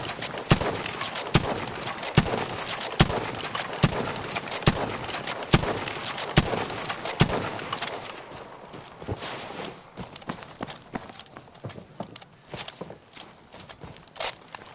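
Rapid gunfire from a modded weapon in the video game Battlefield V cracks in quick repeated bursts of sharp shots, dense at first then thinning into sparser shots over quieter game ambience.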